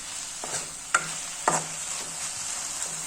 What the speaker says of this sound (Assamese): ঢাকন নিদিয়াকৈ এনেদৰে লৰাই লৰাই ভাজিব লাগিব।